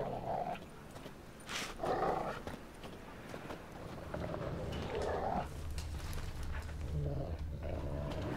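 Dogs growl in The Witcher 3 game, with several rough snarling bursts rising over a quiet ambient background, each lasting about a second.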